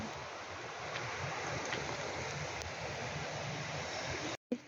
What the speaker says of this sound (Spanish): Esa cascada allá.